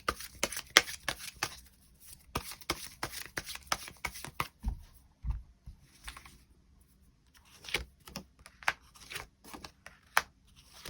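Tarot cards shuffled by hand in bursts of crisp riffling and soft flutters, with brief pauses between rounds and a few quiet taps as the deck is squared, close and fairly quiet.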